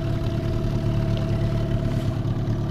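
Storm 13.5 hp two-stroke outboard boat engine idling steadily at low throttle, a constant close, loud low hum with a faint clattering edge and no talk.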